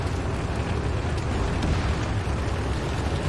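Tank cannon fire in the video game Ace Tanker, a dense, continuous rumbling roar of blasts and booms with low-end thunder throughout, loud and steady without a clear single shot.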